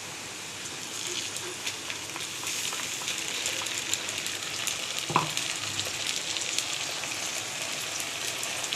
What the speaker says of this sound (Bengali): গুঁড়ো মশলাগুলো সব দিয়ে দিলাম। এবার ভালো করে কষাতে হবে।